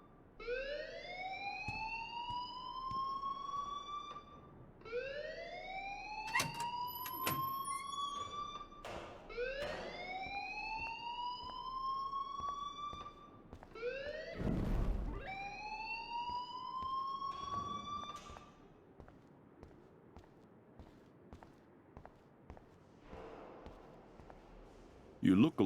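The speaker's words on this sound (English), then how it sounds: "please turn off that alarm since that's your job" In the Life is Strange video game, a fire alarm wails with rising electronic sweeps repeating every few seconds, steady and moderately loud, while people talk and occasional thuds cut through.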